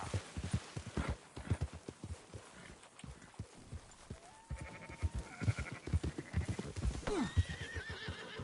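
Horses clip-clop and whinny while sheep bleat during a herding scene in the video game Red Dead Redemption 2, with hooves thudding steadily under scattered animal calls and a faint game voice.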